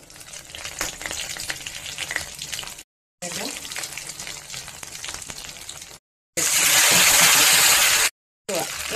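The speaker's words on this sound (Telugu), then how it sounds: "ఇదండి పకోడీ చేసిన నూనెని మనం పోపు పెట్టుకుందాము" Dried red chillies, three of them, tempered in hot oil left over from frying pakoras, giving a loud broadband sizzle and crackle in bursts separated by short silent cuts, with one final fierce spit near the end.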